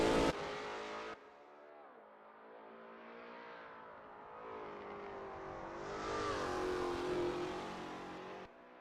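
A Lola T70 MkII Spyder roars around Road America in a racing game, its engine rising and falling through gear changes and climbing to a loud, high-revving wail, heard alone and steady.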